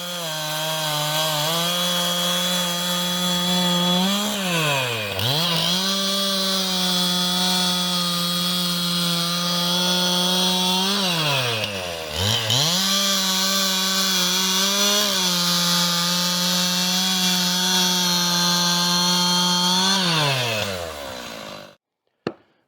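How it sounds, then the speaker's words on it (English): Chainsaw cutting Douglas fir fatwood bolts, the engine howling loud and close, dipping sharply under load twice as it bites through the wood, then cutting off abruptly near the end. "cutting up a year's supply of Fatwood. I've got these nice Fatwood bolts that I cut"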